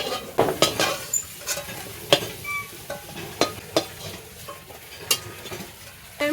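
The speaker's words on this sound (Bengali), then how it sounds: "এই তেলেই এই বেগুনগুলো ভেজে নেব" Oil sizzles steadily as eggplant fries, broken by frequent sharp clinks and scrapes of a utensil stirring in the pan.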